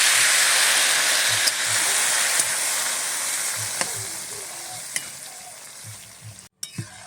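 Masala for a ghugni curry of dried peas frying loudly in a pan, a steady close sizzle with occasional stirring clatters, then a sharp hiss as water is poured in near the end.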